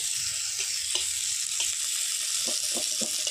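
Continuous hissing sizzle of onion and garlic frying in hot oil, with a few soft stirring clicks scattered throughout.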